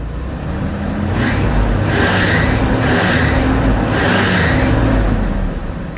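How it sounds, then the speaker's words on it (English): A Holden VH Commodore engine revving hard, a loud, steady roar that swells through a few pulsing throttle surges before easing off, close by with no talk. "Give it a big rev."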